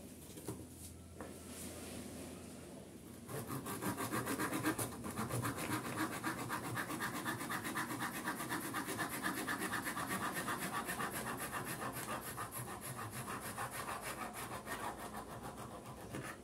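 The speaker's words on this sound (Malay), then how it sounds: "Kita potong dengan gergaji tadi." A hand saw cuts through a bougainvillea bonsai branch in steady back-and-forth strokes, the rasping growing louder after a few seconds and continuing unbroken, close by.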